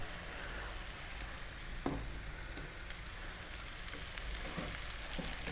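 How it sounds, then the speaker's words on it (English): Broccoli fries in a pan with curry paste, giving a continuous soft sizzle with a few light clinks from stirring, close and steady. "I'm going to fry this around for just another 2 to 3 minutes."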